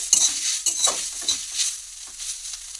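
Grated coconut fries with sugar in a wok over a gas flame, a close, sharp sizzle broken by quick scraping stirs in an uneven rhythm, with no talking.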